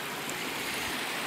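A mountain stream beside a waterfall trail, heard as a close, steady wash of rushing water with no voices.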